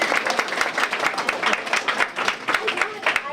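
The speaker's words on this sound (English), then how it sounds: "Then shouldn't we applaud that then?" An audience applauds at a reception, a dense run of quick, evenly spaced claps close by and fairly loud throughout, with voices mixed in.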